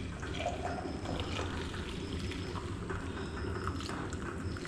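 Tea being poured into a small teapot, a soft, fairly faint trickle of liquid running steadily for a few seconds amid light kitchen background noise.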